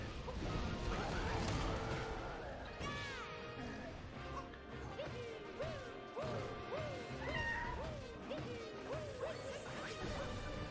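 A kitten meows in a quick series of short rising cries, clearly audible over a continuous bed of Super Mario video game sound with occasional crashes and thuds.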